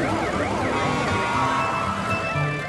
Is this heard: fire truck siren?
yes